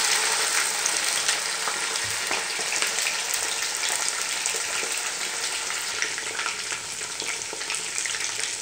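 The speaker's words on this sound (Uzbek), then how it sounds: "Go'shtni ham to qizarmaguncha qovuramiz" Chicken meat frying in a pot until browned, a loud continuous sizzle and crackle with occasional stirring scrapes, steady and close throughout.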